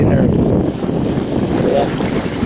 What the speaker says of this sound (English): listening to the waves beating along the shore here